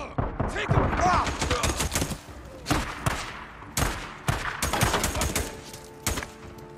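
Rapid bursts of gunfire from the video game Days Gone crack out in dense, irregular volleys over a few seconds, with a voice shouting briefly among the shots.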